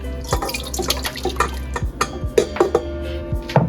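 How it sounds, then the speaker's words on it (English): Partly melted butter poured into a mixing bowl for hot chocolate cookies, landing in a quick run of soft drips and splashes with small knocks against the bowl, close and fairly clear. "I'm going to go ahead and add that to my mixing bowl."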